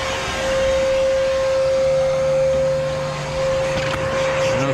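A vacuum cleaner, run in reverse to blow air through an AC condenser, gives off a loud, steady whine with a sustained tonal hum that dips slightly midway, heard close with no speech.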